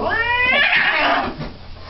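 A cat yowls and caterwauls in a fight on an examination table at a vet clinic, loud and close with rising, wavering howls that swell mid-clip then fade to quieter growling.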